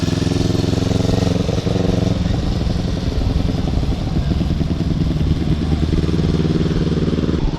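Vespa scooter engine on a ride in Batangas, a loud continuous buzzing drone with rattling clatter and wind rush, steady throughout with faint voices beneath.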